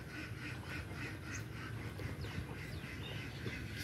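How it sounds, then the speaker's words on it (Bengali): Many village ducks raised at a homestead quack faintly in repeated bursts from a little distance, over a steady low background rumble, with no voices. "দেখতে পাচ্ছেন প্রচুর হাঁস।"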